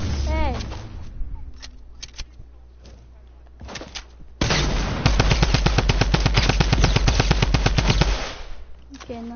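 Sniper shots and rapid gunfire from the Fortnite video game ring out, starting with scattered sharp cracks and building into a long loud rattling volley that stops abruptly, while people talk underneath.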